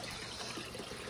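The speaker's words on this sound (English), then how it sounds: "acclimating them and pouring water cups in" Water is poured from cups into a fish tank while new fish acclimate, a steady close splashing trickle that fills the whole moment without speech.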